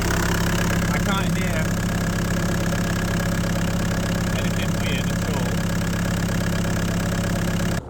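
A car engine idles steadily at close range after an oil cooler failure, with its turbo under scrutiny; a continuous low rumble holds for the whole stretch, and faint voices drift in over it.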